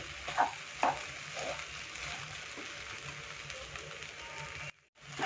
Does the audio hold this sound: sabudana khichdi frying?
yes